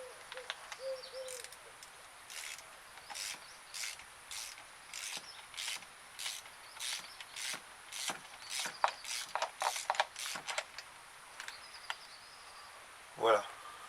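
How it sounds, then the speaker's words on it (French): Rapid clicking of a ratchet wrench fitted with an extension and a 16 mm spark plug socket, loosening the last plug on a four-cylinder Opel Adam 1.4; a steady series of close, crisp clicks, then a final heavier clunk. "j'utilise donc une clé à cliquet avec une rallonge plus une douille de 16 pour bougie."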